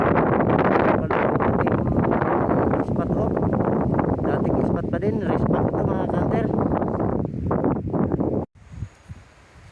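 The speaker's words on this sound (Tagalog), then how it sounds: "Kaya lang malakas ang hangin." Strong wind buffeting the microphone outdoors at a bird-hunting spot in a cornfield, loud continuous roaring and rustling under a man's speech, easing abruptly near the end.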